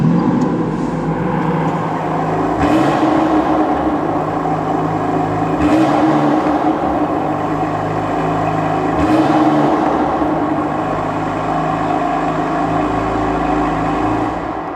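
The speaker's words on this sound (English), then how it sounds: "I'm going to start it up so you can see how it sounds" A BMW M4 GTS engine runs loud and close, idling roughly with three sharp revs spaced a few seconds apart before settling back to a steady rumble.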